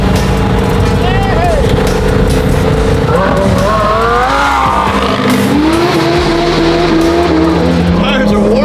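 Lamborghini tires squeal in long wavering howls over a loud, continuous engine roar and rumble as the car warms them up, with voices audible under the din.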